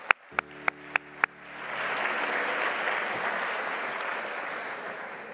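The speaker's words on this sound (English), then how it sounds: "let's please give him a round of applause." A graduation ceremony audience breaks into applause after a few sharp, evenly spaced tones, the clapping swelling into a broad, sustained roar across a large hall and fading gently toward the end.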